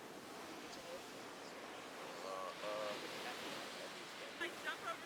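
Ocean waves wash onto a resort beach in Punta Cana, a steady broadband surf rush with wind noise, swelling slightly in places, and no clear speech.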